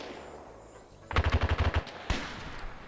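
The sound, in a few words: RPK machine gun fire in a WW2 video game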